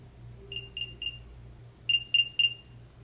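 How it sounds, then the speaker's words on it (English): Apple AirPods 2 emit their Find My locate sound: two bursts of three bright, high chirping beeps each, evenly spaced and fairly close, over a low background hum. "you can also select here to play a sound and your AirPods will begin to make a sound"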